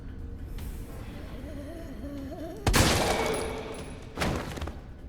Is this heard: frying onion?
no